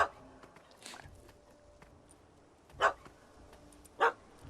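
A small dog barks in The Witcher 3: Hearts of Stone, three short sharp yaps spaced a second or more apart over a background of game ambience and speech.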